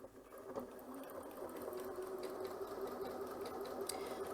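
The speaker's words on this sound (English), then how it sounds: "So I'm going to put my presser foot down and hang on to my tails and begin sewing." Janome C30 sewing machine running a zigzag stitch, a steady fast mechanical whir with a rapid needle rhythm that holds even and close throughout.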